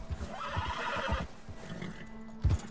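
A white legendary horse in the video game Red Dead Redemption 2 whinnies over steady hoof clops, the neigh rising mid-clip before a final heavy thump near the end.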